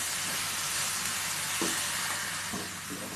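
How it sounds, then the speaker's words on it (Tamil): Chopped onions, tomatoes, dried red chillies and green chillies sauté in a pan for coconut onion chutney, giving a quiet, steady sizzle and hiss with a few soft stirring scrapes. "வெங்காயம் நல்லா வதங்கினோன்னா இப்போ தக்காளி போட்டுடலாம்."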